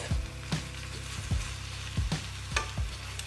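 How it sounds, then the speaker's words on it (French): Spinach sautéing in a drizzle of olive oil in a pan, a loud steady sizzle with rhythmic low thumps and scrapes of stirring roughly every half second. "On va commencer par faire cuire les épinards. J'aime bien les faire revenir avec un petit filet d'huile d'olive."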